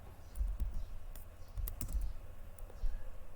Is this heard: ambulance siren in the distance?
no